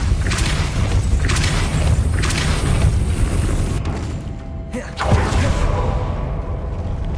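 A Hogwarts Legacy Depulso spell bursts out as a dense, booming whoosh of game effects, with repeated heavy surges, a sudden drop to near quiet, then another forceful blast.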